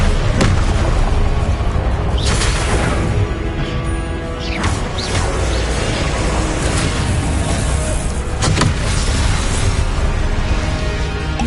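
Confringo spell explosions go off in the Hogwarts Legacy game, several booming blasts with sharp cracks at irregular intervals over a dense, noisy combat background, loud and close.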